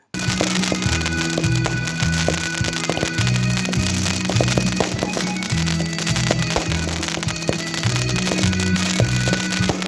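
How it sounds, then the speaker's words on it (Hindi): Diwali fireworks and firecrackers going off inside police lines during a festival celebration, a dense, loud run of cracks and pops with a rhythmic background underneath, no clear speech. "यहाँ पे आज आतिशबाजी की गई है।"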